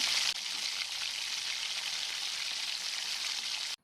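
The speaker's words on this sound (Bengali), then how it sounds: "এইভাবে হালকা করে আমি নেড়ে ছেড়ে ভেজে নিচ্ছি" Snails and potato pieces fry in hot oil in a wok, giving a steady, loud sizzle with a dense crackle that holds evenly throughout before stopping abruptly at the end.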